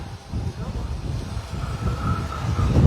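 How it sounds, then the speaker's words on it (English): A diesel hydraulic locomotive pulls into a station on a heritage railway in Fife, making a steady low rumble that grows slightly louder as it nears, with a faint high tone partway through. "So similar to the diesel that's coming in just now, it's XRAF lookers."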